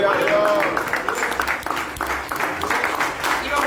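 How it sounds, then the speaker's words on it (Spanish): A church congregation claps in unison, a loud, steady burst of applause with some background voices mixed in. "Denle un fuerte aplauso al Señor."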